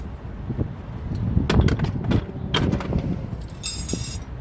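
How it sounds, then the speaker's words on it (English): A 24 mm socket works a long-bolted lower control arm nut loose on a 2011 Ford Explorer, making a few sharp metallic clicks and clinks close up in a short burst. "I use 24 socket to take that out."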